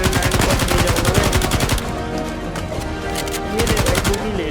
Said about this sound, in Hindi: पीछे से गोली आ रही है ना